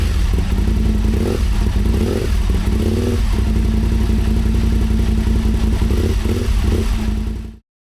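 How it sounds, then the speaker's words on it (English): A 2003 Aprilia Tuono 1000 V2 with a Beowulf aftermarket exhaust, baffle in, idles loud and close with a rough, lumpy V-twin pulse and a few throttle blips before the sound cuts off abruptly. "this bike is pretty loud. It has an aftermarket Beowulf exhaust with the baffle in"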